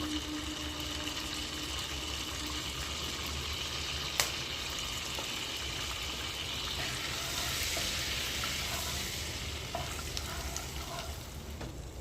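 Whole garam masala of cardamom, cloves, cinnamon and asafoetida frying in hot oil for a chickpea chana masala, a steady close sizzle with faint stirring clicks and a brief sharp tap, no voices.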